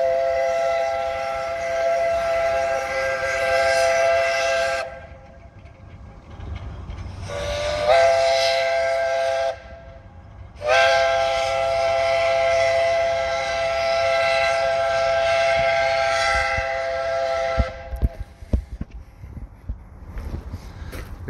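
A train passes at a railway museum in Oklahoma City, with a steady loud rumble and a sustained whistle that cuts out and returns several times before the sound breaks into clattering near the end.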